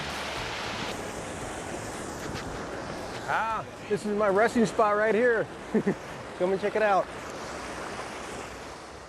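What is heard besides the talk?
mountain valley stream flowing water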